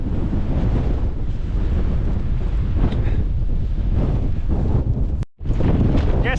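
Storm-force winds of 50 mph and more during Storm Eowyn buffet a Nortent LY2 tent, a loud, continuous roaring rush with a brief dropout near the end.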